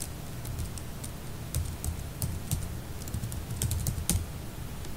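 Code being typed on a computer keyboard. The rapid, uneven keystroke clicks are close and fairly quiet, with no voice over them.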